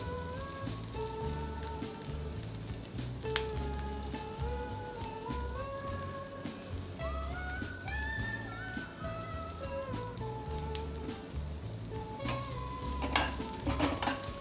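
Bread cubes fry in butter in a pan for a Mediterranean salad, giving a steady, close crackling sizzle throughout, with music playing over it.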